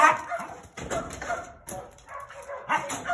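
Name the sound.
dog barking on command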